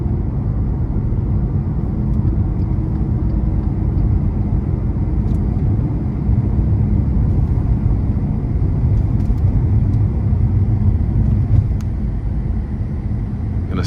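A 2014 Maserati Ghibli S Q4 pulls hard up an interstate on-ramp, a steady, loud low engine rumble and road drone heard from inside the cabin, with no talking.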